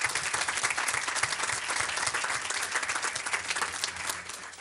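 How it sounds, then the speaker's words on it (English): Steady applause from an audience at a school board meeting, honoring student musicians; dense, sustained clapping of a large crowd throughout, fairly loud and even. "So a round of applause for them."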